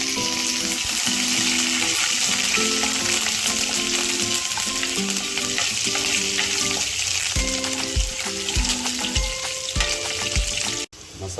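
Green chillies and curry leaves fry in a pan of hot oil for a Karwar-style fish thali, giving a loud, constant sizzle close by, with a background tune running underneath and a sudden stop near the end.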